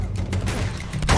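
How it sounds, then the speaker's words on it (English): Gunfire in the Uncharted 2 video game, a fusillade of shots mixed with crashes and booms at steady loudness, ending in a louder burst near the end. "Who is shooting?"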